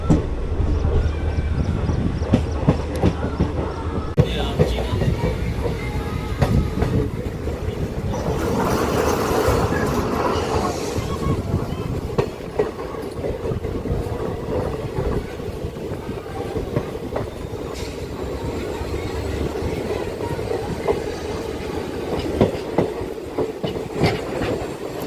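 Train 14736 runs on the Abohar line near thermal plants, a steady loud rumble with continuous clickety-clack of wheels on rails throughout, close and sustained with no voices.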